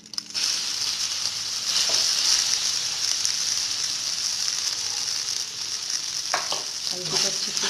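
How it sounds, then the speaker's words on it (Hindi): Turmeric sizzles and fries steadily in hot oil in a pan while being stirred, producing a loud, continuous crackling hiss with occasional scraping clinks of the spoon. "हल्दी को अच्छे से सेक लेंगे।"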